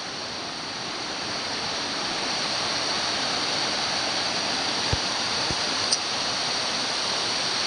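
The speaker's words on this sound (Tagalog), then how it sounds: "Ayan dyan, may tumutulong tubig." Water rushing steadily at Bangon Falls, a dense continuous hiss of flowing water, fairly close, with a couple of faint brief knocks and no voices.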